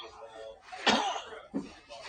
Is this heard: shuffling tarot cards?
no